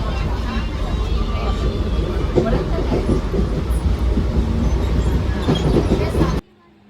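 Busy train station with a train running, its steady rumble and clatter filling the scene amid a dense crowd; people talk throughout over the rail noise, which cuts off abruptly at the end.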